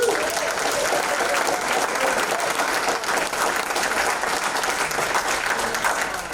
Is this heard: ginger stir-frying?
no